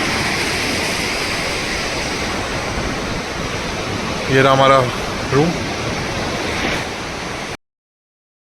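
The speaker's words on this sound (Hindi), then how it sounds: "देखिए पूरी आवाज़ नदी की आ रही है" A river rushes steadily below a hillside stay in Himachal's Barot valley, a constant broadband roar heard close and loud throughout, with a person briefly speaking over it midway.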